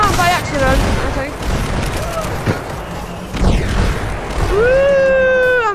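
Rockets fire and burst in a Hyper Dash Payload video game match, heavy booms and crackling blasts rolling under steady excited talk, with a couple of sharper explosions standing out midway.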